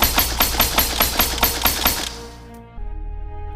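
Pickaxe-style mining strikes with mining gear in the VR game Animal Company, about nine sharp, evenly spaced impacts in quick rhythm, loud and close, then stopping as a low hum continues.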